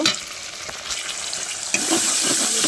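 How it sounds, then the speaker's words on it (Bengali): Ginger-cumin paste masala sautéing in a pan for a cauliflower and fish curry, a steady close sizzle with scraping stir strokes that grows louder and brighter partway through as the paste hits the hot oil. "মশলাটা ভালো মতন কষিয়ে নিতে হবে"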